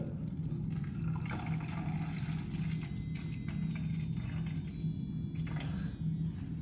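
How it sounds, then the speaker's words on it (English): Steady running water fills a container with a continuous low rushing hiss and faint trickling, loud and close, with no voices. "I'm gonna try to add water into it again"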